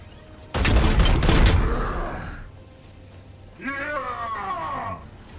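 Gunfire from the video game Chaos Gate: Daemonhunters, a loud burst of rapid shots near the start, followed by a quieter pause and then a growling creature-like sound.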